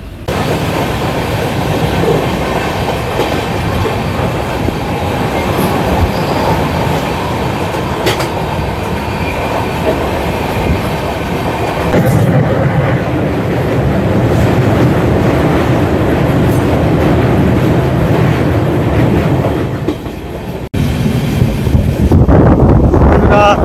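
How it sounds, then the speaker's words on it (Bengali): The Sairang–Kolkata Express runs steadily on the rails toward Ranaghat, making a continuous loud rumble with a faint clatter from the wheels. Wind buffets the microphone throughout. "আমাদের ট্রেন এখন দেখতে পাচ্ছ রানাঘাটের মানে উদ্দেশ্যে যাচ্ছে"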